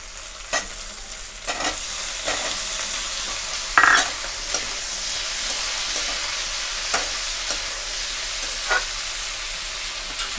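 Sliced potatoes stirred into browned onions in a hot pan, a steady loud sizzle and frying hiss with periodic scrapes and clatters of the spoon, no voices.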